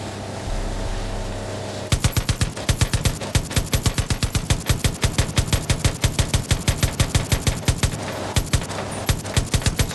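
Sustained automatic gunfire in the Far Cry 5 video game, a loud, rapid, evenly spaced string of shots kicking in after a short quiet stretch and running almost continuously, with a brief slowdown near the end.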